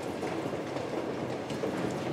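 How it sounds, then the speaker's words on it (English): A moving train in the video game Uncharted 2: Among Thieves rumbles steadily with a continuous rattling clatter, loud and unbroken, with no voices. "We're on the train that we crash on."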